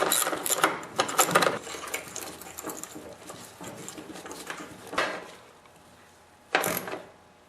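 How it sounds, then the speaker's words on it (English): Socket and ratchet tightening half-inch bolts on a bearing flange of a Craftsman snowblower during drive ring repair, heard as close clicking and metallic clatter in bursts, with quieter rattling between. "Now tighten up the bolts with your 1/2-inch socket and ratchet."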